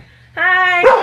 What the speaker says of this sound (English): We have a puppy barking very loud